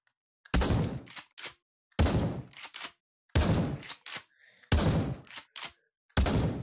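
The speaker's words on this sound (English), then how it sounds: "The next one will be this pump shotgun, which is as close as I can get to the one from Fortnite." Pump shotgun in the Pavlov video game: five loud, sharp blasts roughly 1.4 seconds apart, each followed quickly by the clack of the pump action racking, with silence between shots.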